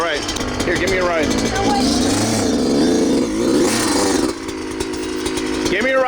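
A Yamaha YZ450F dirt bike engine drones and revs steadily on a hillside, its pitch rising and falling throughout, with voices talking over the engine noise.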